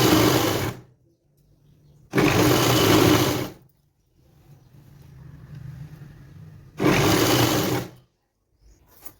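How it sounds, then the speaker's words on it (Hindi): A sewing machine stitching a petticoat seam runs in three loud bursts of rapid whirring, separated by pauses with faint handling noise in between. "इसी के बराबर से ही सिलाई लगाएंगे"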